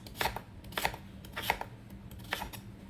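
A knife dices sweet potatoes on a cutting board, giving four crisp, evenly spaced chops up close, each a short sharp knock against a low steady kitchen hum, with no talking.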